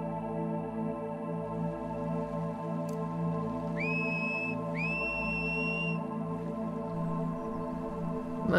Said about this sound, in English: Whistling the whole way.